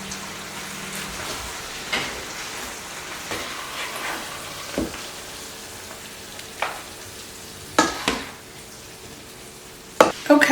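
Beef and broccoli sizzling in a hot pan while being stirred, a steady frying crackle broken by a few louder scrapes and clanks of the utensil against the pan, with no voices.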